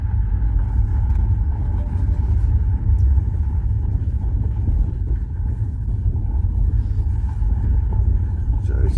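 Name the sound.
hire car driving on farm road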